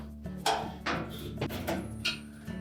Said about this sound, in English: just using a flat blade screwdriver, we'll loosen those two retaining screws